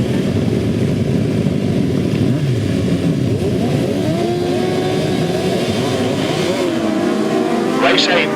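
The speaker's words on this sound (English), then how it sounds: "Race 8 off and running there, and Richard Thomas making a cracking start there" Speedway sidecar motorcycles roar away at the start of a race, a loud dense mix of several engines revving hard together and rising in pitch as they pull away.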